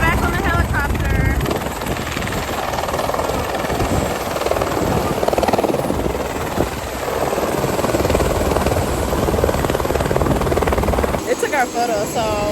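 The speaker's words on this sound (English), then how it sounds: "Time to get back on the helicopter." A helicopter's steady rotor thrum and engine roar fill the whole stretch, loud and close, with voices talking underneath, on a glacier in Alaska.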